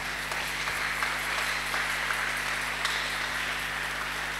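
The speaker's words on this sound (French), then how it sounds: "Est-ce que tu peux acclamer pour le Seigneur?" A church congregation applauds and cheers for the Lord during a French-language sermon. The clapping is steady, dense and moderately loud, and a low hum runs underneath it throughout.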